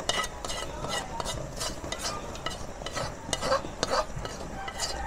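A sautéed mixture is stirred into a pot of mung bean stew with shrimp, glass noodles and bitter melon leaves, giving steady wet scraping and sloshing with a light sizzle throughout. No voices.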